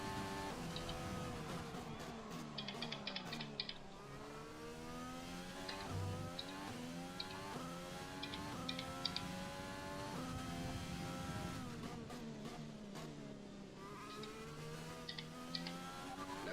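Race cars in a racing video game roar around a track, engines revving up and down through gear changes with brief tire squeals, a steady continuous drone without any talking.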